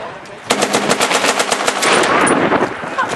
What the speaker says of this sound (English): Girls with machine guns.